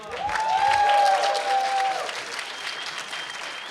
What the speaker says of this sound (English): Stand up and give this man a round of applause.